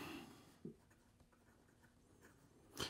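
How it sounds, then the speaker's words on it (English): Steel-nibbed Leonardo Momento Zero Grande fountain pen scratching across paper, faint close-up strokes with soft scrapes and small taps in a quiet room. "Here we go with the writing sample for the Leonardo"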